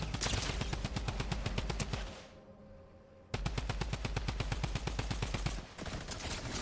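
Rapid bursts of gunfire in a shooting game, close and loud, two long automatic volleys of evenly spaced shots separated by a brief pause.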